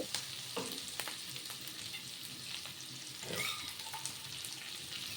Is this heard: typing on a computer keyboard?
no